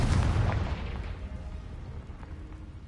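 Confringo fire spell blast in the video game Hogwarts Legacy: a single loud, close booming burst that rolls off into a fading rumble over a few seconds.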